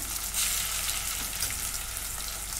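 Ginger-garlic paste hitting sautéed onion in a hot pan for a masala curry, producing a loud, dense, continuous sizzle and hiss over a short stretch, with no talking.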